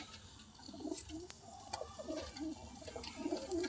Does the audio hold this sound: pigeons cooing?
yes